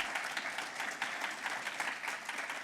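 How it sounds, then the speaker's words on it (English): Sustained applause from an awards-event audience, steady clapping that holds at an even level for the whole stretch with no voices over it. "that's a big round of applause, isn't it, at that point, everyone?"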